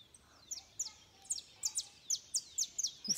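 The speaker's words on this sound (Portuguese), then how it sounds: "Os passarinhos." Baby birds chirping in a nest inside a fern, a rapid series of thin, high peeping calls at a steady rhythm, fairly close but faint, over quiet background hiss.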